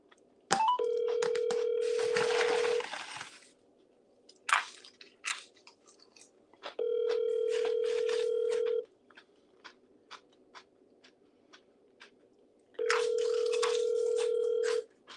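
A phone call goes out over a telephone line, with three long, steady ringback tones spaced several seconds apart and faint rustling and handling noise in the quiet gaps between them.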